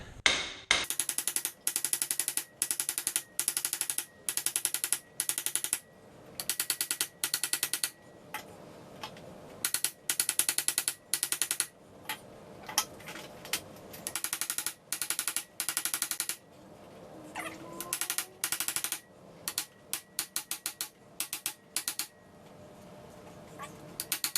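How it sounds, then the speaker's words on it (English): Sharp, loud hammer blows striking a manual impact driver to turn screws on a 2007 Kawasaki Ninja 250 mirror, in rapid bursts of repeated strikes separated by short pauses, close by with no talking. "hold it there while you hammer it so it actually turns the screw"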